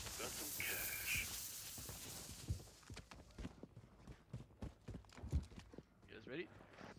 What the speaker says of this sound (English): Yeah, I hear footsteps in here, I think